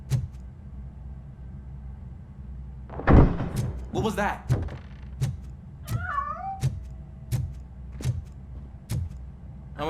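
A cat meows in the RoboCop Rogue City video game, a few short rising and falling meows amid game thuds and a door-like clunk, with someone speaking over the scene.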